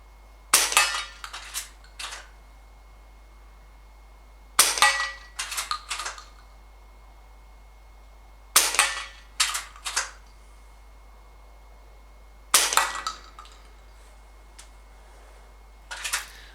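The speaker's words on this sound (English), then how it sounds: "I'm shooting from 30 yards and I'm using a sitting position" John Bowkett Super 10 air rifle shots outdoors at 30 yards: four sharp cracks spaced evenly apart, each followed by a few quick clicky echoes or pellet impacts, against a quiet background.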